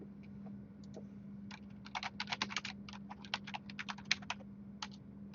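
Keys clatter on a computer keyboard as passwords are entered for a Cisco 2960 switch, with quick irregular bursts of close, quiet tapping over a low steady hum.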